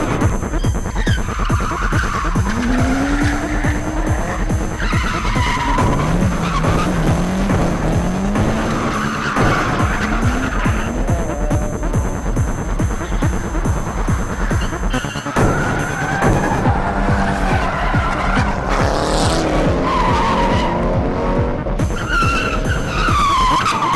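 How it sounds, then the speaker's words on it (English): Cars drifting through a right-hand street turn at night, engines roaring loudly and tires squealing in long, wavering screeches as one car after another slides past close by, sustained throughout. "the more experienced drivers come down the street and drift the turn to the right."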